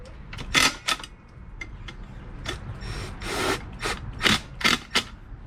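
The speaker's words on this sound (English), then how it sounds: "Hit it with the little impact gun." A small impact gun drives bolts into a mini bike's stator cover in short, sharp bursts of rattling hammering, several quick hits spaced irregularly with brief pauses between, loud and close with no talking.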